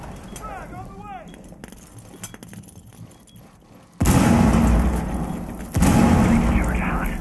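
A frag grenade blows up in a tactical shooter game, a sudden heavy boom around the midpoint followed by a second loud blast, after quieter clinks and a brief radio-like voice.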